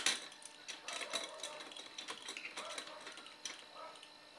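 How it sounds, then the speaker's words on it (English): A spanner tightens the nuts on an antenna pole clamp, giving close, quiet metallic clicks and ratcheting scrapes in quick irregular bursts, with no talk. "tighten up the nuts"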